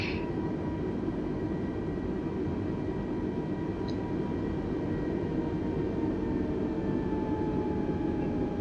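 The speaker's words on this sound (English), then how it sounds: "Just a little bit of thrust to get the aircraft moving" Airbus A320 jet engines spooling up steadily for taxi in Microsoft Flight Simulator 2020, a constant broadband roar with a faint steady whine running underneath and no pauses.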